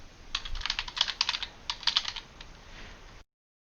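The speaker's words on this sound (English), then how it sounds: "if I type in my email address" Rapid bursts of keystrokes on a computer keyboard as an email address is typed into a search field, close and clear, in uneven clusters with short pauses, then quiet.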